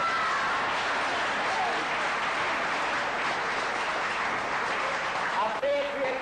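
Continuous audience applause fills a theatre during a comedy, dense, even clapping sustained at a fairly steady level, tapering slightly near the end.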